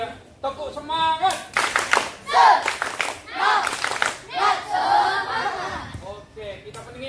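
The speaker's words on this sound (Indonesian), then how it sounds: "Tepuk semangat." Children clap their hands in rhythmic bursts during an elementary school gymnastics lesson, short rounds of claps broken by a teacher's voice and some giggling.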